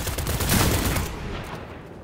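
Fortnite gunfire in a short burst of shots, loud and dense at first and then fading into a lingering tail, with no talking over it.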